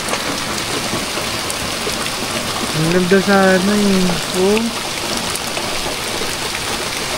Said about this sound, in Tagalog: Ang laot ng ulan talaga.